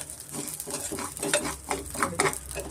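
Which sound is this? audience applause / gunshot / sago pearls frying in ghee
sago pearls frying in ghee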